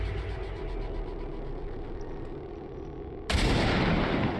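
Gunfire in Fallout: New Vegas during a fight in a secured NCR area: low rumbling background, then an abrupt loud shot about two-thirds through that rings out with a broad, sustained blast tail.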